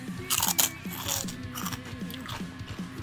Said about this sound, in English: So you guys can hear my wonderful crunching noises.